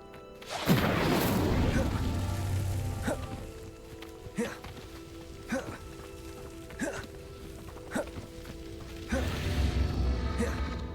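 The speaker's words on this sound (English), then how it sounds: "The flames make the pyre sink." A pyre sinking after an Incendio fire spell in Hogwarts Legacy: a heavy crash and rumble at the start, then a series of sharp, evenly spaced knocks, and a second low grinding rumble near the end.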